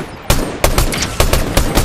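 Gunfire in the Fortnite video game: five loud, sharp shots spaced about a third of a second apart, each a hard broadband crack with a short decay, close and alone with no talk.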